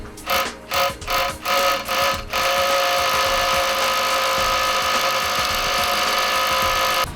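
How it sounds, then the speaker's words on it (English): A power drill bites in several short bursts, then runs in one sustained grinding whine as it bores a hole into concrete for an anchor, loud and close. "we're simply going to drill a hole"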